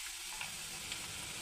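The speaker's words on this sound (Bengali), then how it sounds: "এবার চালটা পুরো ভেজে নিই" Rice fries in a pan over raised heat for homemade chanachur, a steady, fairly quiet hiss and crackle that continues without a break.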